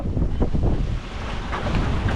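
Hurricane-force wind roars steadily over a sailboat at sea, a loud continuous buffeting rush with gusty surges and microphone wind noise, with no talking.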